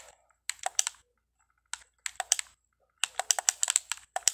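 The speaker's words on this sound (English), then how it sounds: "now I'm gonna type it up" Fingers type on a computer keyboard in short quick bursts of crisp close clicks, with brief pauses between flurries and no talking.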